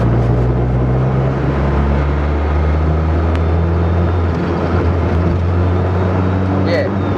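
A car engine hums steadily and loudly from inside the cabin as the vehicle coasts, a constant low drone with slight unevenness suggesting it is struggling, with no break throughout.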